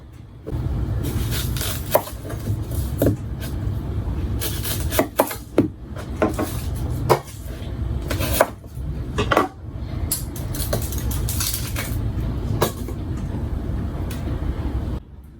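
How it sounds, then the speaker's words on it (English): A knife chops onions on a cutting board, giving irregular knocks and scraping rubs over a continuous low background rumble, with sharper thuds scattered throughout and no voices. "I'm gonna chop these up"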